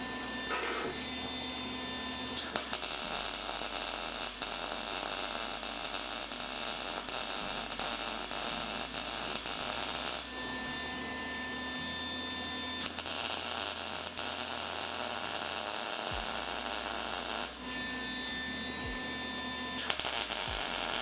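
Electric welding on turbo-to-intercooler piping: three long steady buzzing, hissing arc runs of several seconds each, separated by short quiet pauses, with a low hum underneath and no talking.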